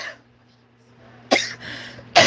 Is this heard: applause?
no